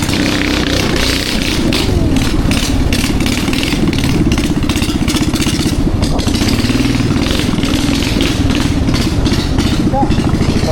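A small foam boat's engine runs loud and close with a constant chattering drone, like a motorcycle idling. It keeps going without a break after sunset, and voices talk over it now and then.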